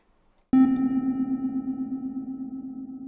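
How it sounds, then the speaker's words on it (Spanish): A synthesized tone with a reverb effect set to a small room size begins abruptly and sustains steadily, its short, tight reflections keeping the sound close and dry, heard alone without any voice. "Aquí podemos ver que cambia a un sonido pequeño"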